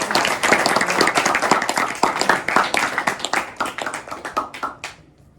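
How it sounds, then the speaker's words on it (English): A classroom of students applauds after a presentation, crisp clapping from a modest group that starts strong, gradually thins to a few scattered claps and fades out near the end. "let's give him a round of applause."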